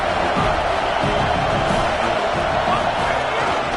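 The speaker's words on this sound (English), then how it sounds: "This crowd ready to make its presence known." A stadium crowd at a football game makes a steady, dense roar of cheering and noise that runs unbroken throughout the moment, with a faint broadcast voice mixed in.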